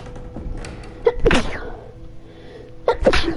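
A cartoon sneeze from a Batman video game, a sharp burst with a preceding intake, followed moments later by a second, similar sneeze-like burst, set against quiet room tone.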